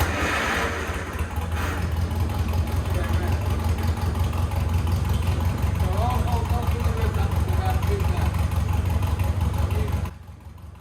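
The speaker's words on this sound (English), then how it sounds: "so it's idling and the wheels are going round, but our foot is on the clutch" A Lotus 7 Birkin S3 with a frozen, stuck clutch runs at a steady idle, its low engine drone continuous and close for about ten seconds before cutting away.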